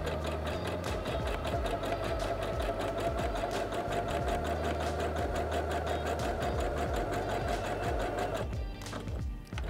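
A Singer Heavy Duty 6800C sewing machine runs steadily on its default zigzag stitch, a loud, fast, even mechanical chatter close by that stops abruptly near the end.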